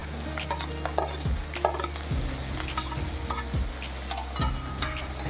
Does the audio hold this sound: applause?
no